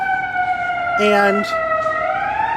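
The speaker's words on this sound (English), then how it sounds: "Why is there so many sirens?" Emergency vehicle sirens wail steadily in the background, rising and falling tones with a brief extra horn-like blast midway, under a voice that speaks a single word.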